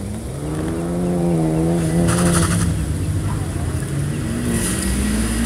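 A 2004 Honda S2000 runs an autocross course, its engine note steady and rising and falling through the run, with brief tire squeal and a faint voice underneath.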